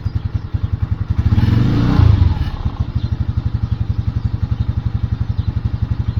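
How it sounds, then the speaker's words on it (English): A Lifan King motorcycle engine idles slightly low close up with a steady, rapid low thumping, briefly swelling in the middle before settling back. "there it appears to be idling just a little bit low"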